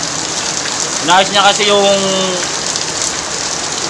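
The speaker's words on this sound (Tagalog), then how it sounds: "super grabe lakas ng ulan ngayon guys oh" Heavy rain pours down in a dense, constant hiss on a rainy morning, close and loud throughout, while someone speaks briefly over it.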